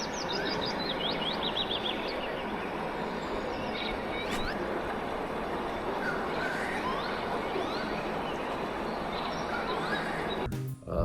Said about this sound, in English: they were playing sounds of Finnish nature.